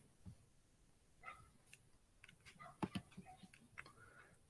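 A neighbour's dog barks faintly in the background, giving a few scattered, distant barks over a quiet room with light clicking.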